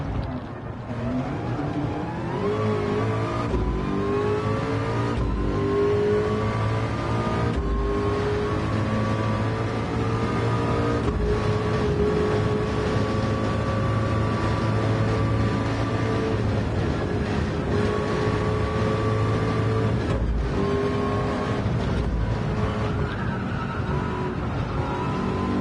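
McLaren race car engine in a VR Le Mans racing game, a loud sustained drone whose pitch climbs and falls through gear changes, with brief dips between shifts over the long run.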